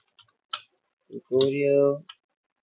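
Computer mouse clicks while opening a tutorial in a circuit-building program for an Arduino robotics project: a few sharp, faint clicks spread across a couple of seconds, with a short tonal voice-like sound between them.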